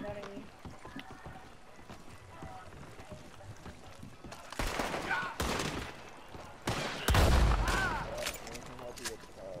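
A few loud, close gunshot bursts in Red Dead Redemption 2 break through quieter game ambience in the second half, alongside a voice.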